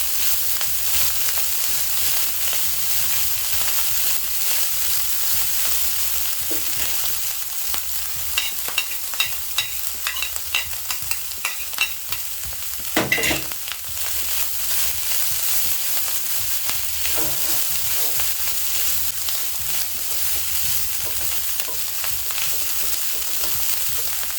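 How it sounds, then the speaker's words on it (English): Garlic and coriander stems frying with minced meat in a pan, a steady loud sizzle throughout with quick stirring scrapes in the middle, close and alone without talk. "That's some garlic and some coriander stems. I'm going to mix this well"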